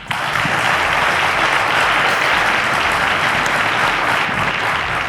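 Sustained applause fills the hall for the junior-category first runner-up on a televised quiz show, steady and dense from start to finish, with no voices over it.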